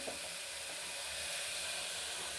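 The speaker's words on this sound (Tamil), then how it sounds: "இதுக்கு நல்லா முருவலாக வெங்காயத்தை வறுத்து எடுத்துக்கணும்" Onions frying in hot oil until crisp for chicken 65 biryani, a steady soft bubbling sizzle and hiss, close and unbroken.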